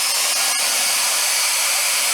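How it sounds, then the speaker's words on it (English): A hair dryer blows air upward to hold a ping pong ball aloft, a steady loud whooshing hiss with a couple of faint clicks near the start. "I've got a hair dryer forcing air up, and it's holding this little ping pong ball in place"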